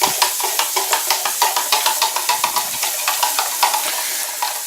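Onions frying in a pan while a spoon stirs them, a loud close hiss broken by quick regular scraping strokes, roughly four per second.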